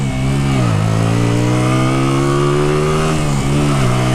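A Hyosung Aquila 125cc motorcycle accelerating on a test ride, its engine loud and close, pitch climbing steadily and dipping briefly at gear changes before rising again.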